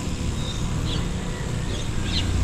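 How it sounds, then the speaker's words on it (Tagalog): Several birds chirp in short, faint calls over a steady outdoor background on a morning bike tour route in Bohol. "Daming ibon."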